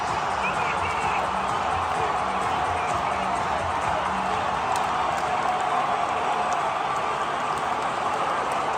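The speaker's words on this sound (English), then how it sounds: "just listen to this crowd. They absolutely exploded." A packed baseball stadium crowd at a World Baseball Classic semifinal roars in a sustained, dense wash of cheering right after a tying play, loud and continuous throughout with no pauses.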